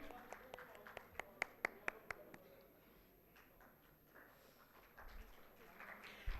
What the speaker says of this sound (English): So with a huge round of applause, please be the part of the segment